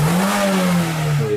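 Suzuki Grand Vitara engine revving hard during a kickdown, a loud, close, steady roar that rises slightly and then eases, heard alone with no voices.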